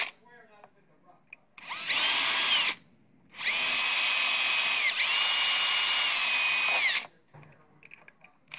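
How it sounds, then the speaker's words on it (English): A power drill fitted with a small bit in a micro chuck whines loudly in two bursts, a short one and then a longer one, with quieter pauses between them. "I'm just going to make it easier to clamp in my drill with a micro chuck"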